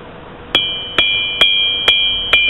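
Hammer blows ring out on hot steel held over the horn of an anvil, five evenly spaced, loud metallic strikes, each leaving a bright sustained ring.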